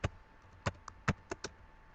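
Keys on a computer keyboard are struck in a sparse, uneven run of about seven crisp clicks, close and fairly quiet, against a soft background hum.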